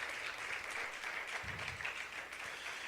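A church congregation applauds during a sermon, steady dense clapping spread through the room at moderate level, with a brief low thump partway through.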